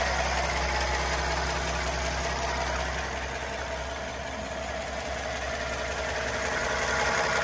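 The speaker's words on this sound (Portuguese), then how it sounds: "Vocês vão ver, ó, o motorzinho V12 dele. Gente, o motor é tão silencioso pro V12." Rolls-Royce V12 engine idling after a cold start, a steady low rumble with faint mechanical ticking, close and continuous with no talk.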